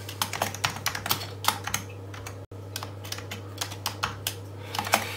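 Rapid, irregular keystrokes clatter on an Amiga 4000 computer keyboard with a faulty A key, close and clear over a steady low electrical hum, with a brief dropout midway.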